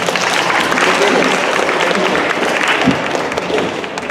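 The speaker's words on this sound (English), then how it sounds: "Give yourselves a round of applause for making it out here." A large convention crowd applauds at Bronycon, with loud, dense, continuous clapping lasting the whole stretch and a single thump partway through.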